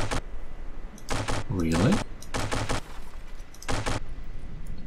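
A CRAM cannon in From The Depths fires frag shells at heavily armoured targets: five or six sharp, booming blasts in irregular succession, each a short broadband crack. A brief voice speaks between shots.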